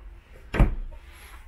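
Drawer in a 2021 Grand Design Imagine 2800BH camper sliding shut with a single short, dull thump close by, set against a quiet room with no talk.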